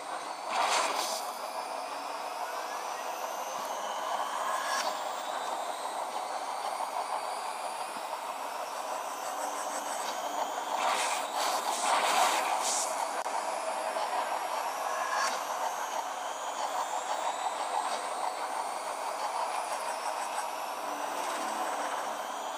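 Subway train rumbling through a station in The Dark Knight Rises video game, a steady broadband roar with swelling passes and faint whines, continuous throughout without speech.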